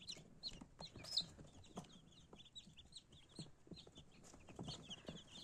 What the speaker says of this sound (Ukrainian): Ось такі вони гарненькі активненькі, чубатенькі, різнокольорові курчатка.